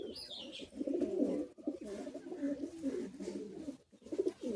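Several Madrasi high-flying pigeons coo continuously in low, overlapping murmurs, fairly quiet and steady, with a brief high chirp near the start and no voices.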